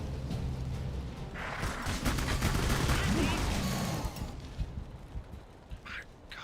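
Minigun fire in the shooter Clive Barker's Jericho, a dense, roaring spray of rapid shots mixed with other battle noise at moderate distance, fading into scattered bangs and combat ambience.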